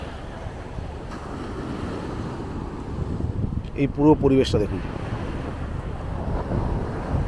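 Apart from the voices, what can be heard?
strong wind blowing at the seaside, Henry's Island Bakkhali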